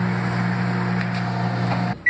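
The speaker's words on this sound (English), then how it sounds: "Put it in the microwave." Microwave oven running with a steady low electrical hum, then cutting off with a short beep at the end.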